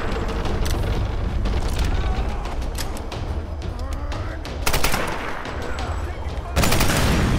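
Short controlled bursts of automatic gunfire in Tomb Raider Definitive Edition, loud and close and repeating throughout over constant booming combat noise and rumble, with no clear talk.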